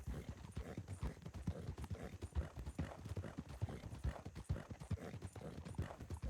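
Horse hooves gallop in a Red Dead roleplay game, a fast, even clip-clop rhythm of hoofbeats that carries on without a break, close and moderately loud.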